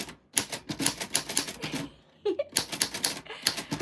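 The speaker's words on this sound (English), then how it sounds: "I write poetry for a living using this typewriter." A manual typewriter used for writing poetry, its keys striking in quick, uneven bursts of sharp clacks close by, with a short pause partway through before the typing resumes.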